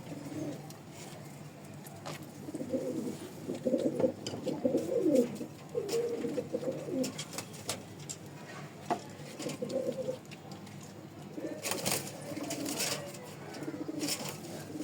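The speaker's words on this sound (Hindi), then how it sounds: "ये जो काली चीनी कबूतरी देखें आपको घूमती हुई नज़र आ रही है" Black Chinese pigeons coo in soft, repeated throaty phrases close by in a loft, with clusters of calls separated by short pauses and light rustling and scattered chirps in the background.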